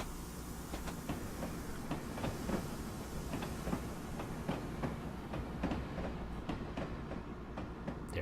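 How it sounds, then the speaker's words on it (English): A train rolls past over a river bridge, its wheels clacking in steady repeated beats against a continuous low rumble, fairly close and loud throughout with no talk. "Let's just pop our camera right out and watch our train go by."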